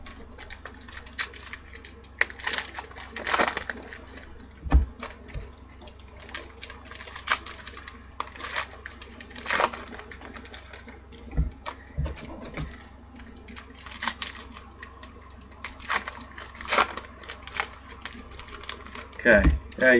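Leaf 2016 football card packs being ripped open by hand, crinkly tearing and rustling bursts of foil wrappers repeating in short irregular spurts, close and moderately loud, with quiet talk in the background.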